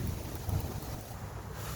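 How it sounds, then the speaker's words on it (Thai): Strong cold wind blows through a forest, a steady low roar of gusting air rushing against the microphone, continuous and fairly close for the whole stretch. "วันนี้ รู้สึก ลมแรงจริงๆ อากาศก็หนาวเย็น"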